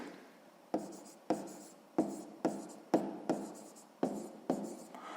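Pen writing numbers on paper, a quiet sequence of about eight short scratchy strokes in a steady rhythm, close and alone with no talk.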